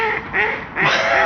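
Ducks at a duck pond quack loudly and close by, two raspy bursts of quacking in quick succession with no talking.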